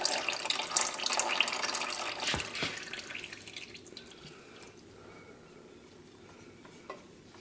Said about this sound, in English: I'm going to wait for oil to stop draining over here